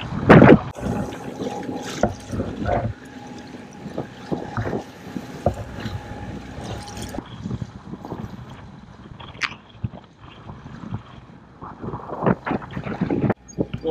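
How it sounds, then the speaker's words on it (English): Strong wind buffets a sailboat at sea off the island approach to Siquijor, gusting noise rumbling and flapping unevenly against the microphone, with water sloshing beneath. "the wind's got up and a few white tops there"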